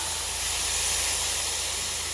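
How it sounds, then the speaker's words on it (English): Short ribs sizzle steadily in a hot pan at a primitive campsite in Cades Cove, Smoky Mountains, a continuous close hiss and crackle with no voices. "Listen to the sizzle."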